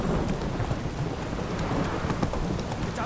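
Heavy rain pours down in a video game, a dense, loud hiss of drops on surfaces with low rumbling thunder rolling underneath, continuous and enveloping without any talking.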